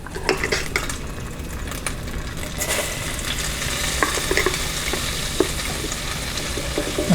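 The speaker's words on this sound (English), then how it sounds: "Get us a little roux started." Flour cooking into a stick of melted butter for a turkey gravy roux, a loud close sizzle with busy stirring, and utensils clinking and scraping the pan almost nonstop, no speech.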